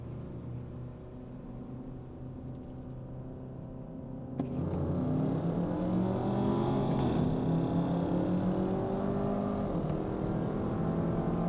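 A Kia K5 GT in manual mode and second gear idles with a low hum, then bursts into a hard full-throttle launch, its engine roaring loudly and rising in pitch as it accelerates, close and uninterrupted by talk.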